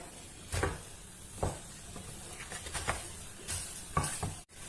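Bread toasts golden in a pan over a medium flame: a faint, steady sizzle with a few soft spatula scrapes and taps as the slices are turned.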